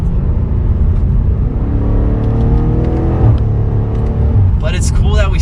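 A 2022 Mercedes-AMG E63S sedan engine revs up and down in loud, rising sweeps with a few sharp exhaust pops, heard close, and a voice briefly speaks near the end.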